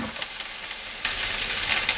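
Onions fry in a pan for a Pakistani masala bhindi and kofta curry lunch, giving a steady close sizzle that grows a little louder partway through.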